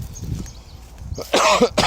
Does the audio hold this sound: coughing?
yes